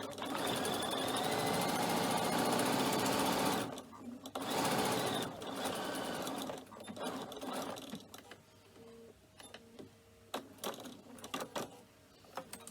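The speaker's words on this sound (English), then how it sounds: "when you come to sewing the lining up" Sewing machine stitching the lining of a cork messenger bag, one long close run followed by shorter bursts and scattered clicks and handling sounds as it slows.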